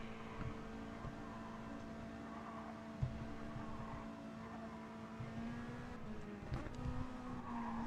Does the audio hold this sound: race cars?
yes